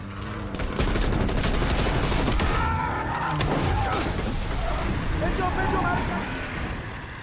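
Gunfire from the Call of Duty Cold War campaign on Realism difficulty, with loud, dense bursts and rapid shots packed together, and vehicle noise rumbling underneath.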